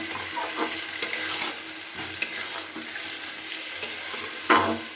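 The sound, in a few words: stirring spiced potatoes with turmeric, cumin, chilli powder, peas in pan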